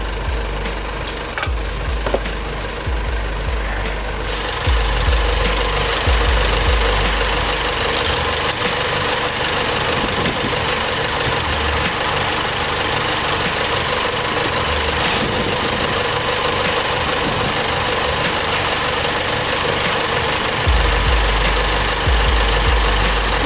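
An automatic car's engine running while a wheel stuck in a snowdrift turns so snow chains can be mounted, a steady close idle with rhythmic knocking and low thumps as the wheel spins.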